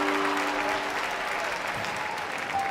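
A crowd cheering and applauding in a dramatic scene, a steady wash of clapping and voices with a faint tonal hum beneath it throughout.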